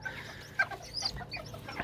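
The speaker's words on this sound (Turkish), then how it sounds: "Üç tane civcivimiz doğmuş beş yumurtadan" Newly hatched Serama and Gurk chicks cheep and peep softly in short, scattered calls, close by, with low background noise and no speech.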